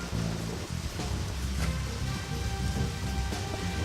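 Steady rain falling in the video game Deadly Premonition, a continuous broadband hiss with low rumbling beneath, heard alone without talk.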